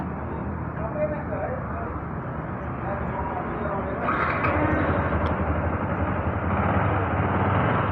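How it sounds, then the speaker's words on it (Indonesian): A 2015 Yamaha R15 motorcycle engine runs at a steady, smooth idle, a close continuous drone with a slight rise in intensity partway through. "kita coba langsung cek suara mesinnya"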